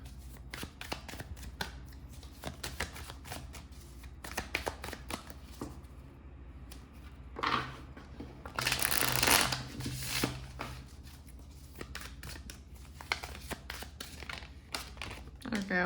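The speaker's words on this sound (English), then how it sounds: "I'm going to be shuffling your oracle cards out in a second as well." Tarot and oracle cards with cat artwork being shuffled by hand in repeated crisp riffling bursts and flicks, some louder rustling in the middle, close by and under a speaking voice.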